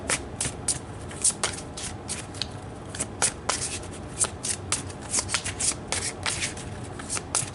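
Tarot cards being shuffled, a steady run of crisp riffling flutters and soft snaps close up, with no talking.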